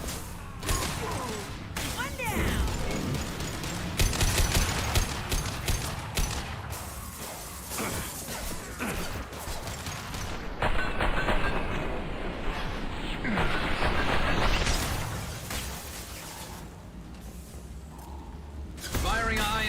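Heavy gunfire in the Mass Effect 2 Legendary Edition game, dense bursts of shots and impacts spread across the clip with loud crashes and thuds, overlaid by game music and effects.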